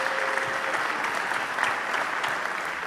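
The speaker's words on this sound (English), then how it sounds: "Give another round of applause for our coaches and student athletes for the local Varsity athletics" Another round of steady applause from the crowd at a high school winter varsity athletics awards ceremony honours the coaches and student athletes, with continuous clapping throughout.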